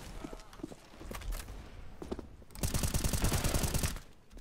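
Gunfire in CS:GO on the Dust 2 map: scattered single shots and footsteps, then a dense automatic burst lasting over a second, close and loud, with no talk over it.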